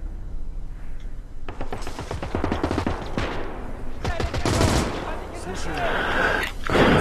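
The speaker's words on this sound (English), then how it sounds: "I didn't see where that machine gun is." Machine gun fire from the Call to Arms Gates of Hell WWII Eastern Front game, with dense rapid bursts and scattered gunshots running through the whole stretch under a spoken voice.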